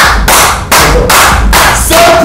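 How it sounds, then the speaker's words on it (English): A group of people claps in a Nollywood drama scene, loud and close in bursts of broadband claps with brief gaps between waves, no talk heard. "Clap for yourself."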